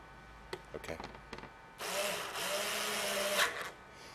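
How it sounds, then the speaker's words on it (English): A power driver tightens screws on a Royal Vendors RVV500 vending machine delivery bin, a close, steady whirring run of about two seconds that follows a few sharp clicks and knocks of handling. "screws until I get them all in and then go back around and tighten them up"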